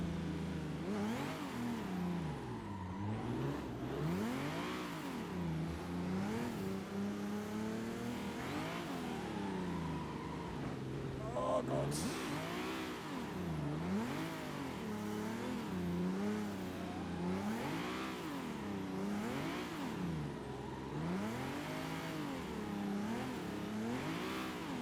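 Car engine in Assetto Corsa revving hard while drifting, pitch swooping up and down in repeated waves as the throttle is worked, continuous and close, with tire noise beneath.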